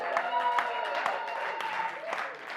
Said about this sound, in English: please give a big roar for Jeremiah Malonzo